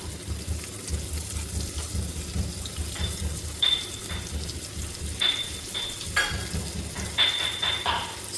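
Finely chopped onion going into hot oil with hing and turmeric: a steady close sizzle broken by sharp metallic spoon clinks and stirring scrapes at irregular moments, no voices.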